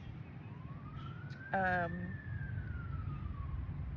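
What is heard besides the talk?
sirens passing in the distance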